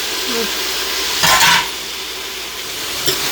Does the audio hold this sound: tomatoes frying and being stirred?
yes